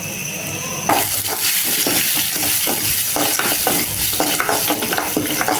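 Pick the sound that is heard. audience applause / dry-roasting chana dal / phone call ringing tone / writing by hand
dry-roasting chana dal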